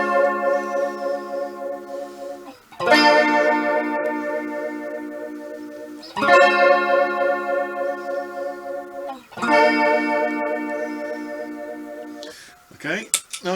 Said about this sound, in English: Flanger 2.